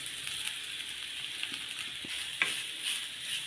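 Half a grated coconut frying in ghee and being stirred: a faint, steady low sizzle with a few soft scraping stir sounds, close and quiet throughout.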